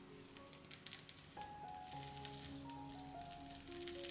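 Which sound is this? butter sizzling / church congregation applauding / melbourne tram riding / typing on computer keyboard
butter sizzling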